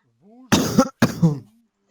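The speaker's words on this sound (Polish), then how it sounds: "Proszę nie kaszleć." Two sharp, close coughs in quick succession, each a harsh burst, with a brief low throaty sound before and after.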